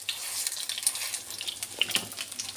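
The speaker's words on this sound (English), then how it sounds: "my crumb steak is in the pan. You can see that it's hot because it is bubbling so very much" Crumb steak frying in a hot pan, a steady close hiss of bubbling oil with small crackles and pops scattered throughout, no voices.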